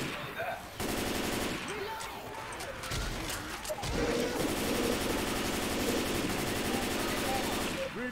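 Rapid automatic gunfire and scattered shots from the zombie shooter Left 4 Dead 2 rattle on almost continuously, loud and close, with voices talking underneath.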